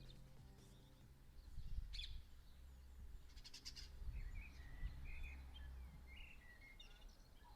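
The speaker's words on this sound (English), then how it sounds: "This is the sound of early morning on the chalk at the beginning of April." Early morning outdoors on chalk land in early April, a quiet ambience with distant birdsong, scattered chirps and calls over a low background rumble, all faint and far off.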